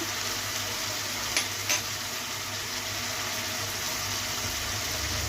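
Raw banana slices fry in hot oil with turmeric, giving a steady, even sizzle that stays close and constant throughout, with a couple of faint clinks.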